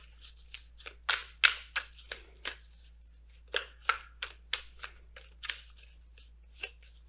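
Oracle cards are shuffled by hand in a quiet room, giving a string of crisp, close riffling snaps and taps at an irregular pace, with short gaps between the bursts.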